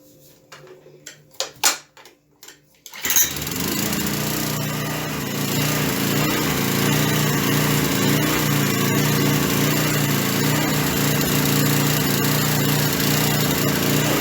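A Honda 500W generator's small engine starts up after a few sputtering attempts, then runs steadily and loudly with a constant droning hum.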